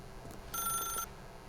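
A telephone rings once in the video game The Stanley Parable, a short bright electronic trill standing alone over a quiet background.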